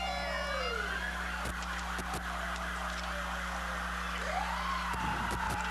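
Police escort sirens wail through the Edison Festival of Light Grand Parade in downtown Fort Myers in 1990, rising and falling sweeps sounding steadily over a continuous crowd and engine hum, with a few sharp knocks.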